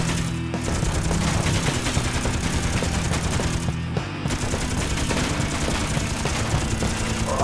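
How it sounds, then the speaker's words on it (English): Chain gun fire in Space Engineers, a loud continuous rapid rattle of rounds with only a couple of short breaks, close and dense throughout. "This fat boy's a beast of handling with that chain gun going on."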